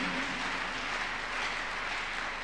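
A church congregation at a miracle service claps together in a dense, continuous wash of hands, loud and steady throughout with no breaks.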